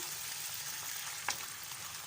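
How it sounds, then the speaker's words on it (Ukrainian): Steady, soft sizzling of meat frying in butter in a pan, a continuous hiss with one brief clink partway through; no voices. "І хай воно що смажиться з маслом"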